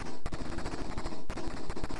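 Rapid bursts of gunfire from the Amstrad CPC464 game Operation Hanoi rattle along in loud, dense volleys, with one sharp break in the middle and then another run of chiptune-style shots.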